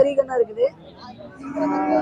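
Cattle and calves at a crowded cattle market, with a couple of short lowing calls near the start followed by busy background voices as people talk nearby.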